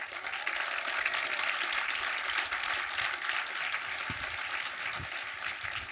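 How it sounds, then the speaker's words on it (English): Sustained audience applause from a seated crowd at a panel event, dense and steady throughout with no pauses, a few louder claps standing out near the end. "let's just give a standing ovation for like 40 minutes at how good this series is"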